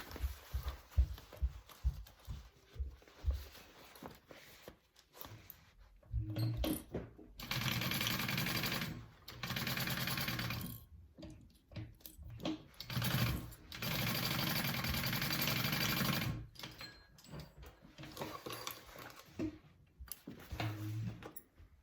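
A sewing machine stitches a bucket bag seam in several bursts of rapid mechanical whirring, each lasting a few seconds and separated by pauses, with softer handling clicks and taps between runs, close but fairly quiet.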